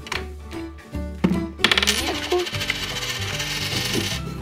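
A coin drops into a LEGO candy dispenser with metallic clinks and rattling, followed by a run of rubbing, clicking mechanism sounds close by.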